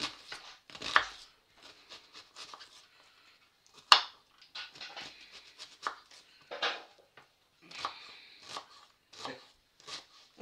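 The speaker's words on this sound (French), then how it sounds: "Donc là on émince l'oignon." Onion being finely sliced with a knife on a board while cooking Polish letcho, a run of short irregular cutting taps and scrapes with a couple of sharper knocks, close and fairly quiet, no voices.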